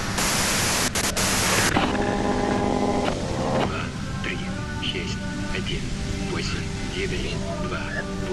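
Radio white-noise static in the video game Disco Elysium, a harsh hiss that is loudest at the start and then continues underneath a voice speaking through it.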